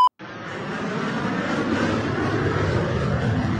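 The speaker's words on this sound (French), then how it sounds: "Un avion qui est en train de passer" An airplane passes overhead, a steady broad engine roar that swells in from near silence and holds loud and close throughout, with no talk over it.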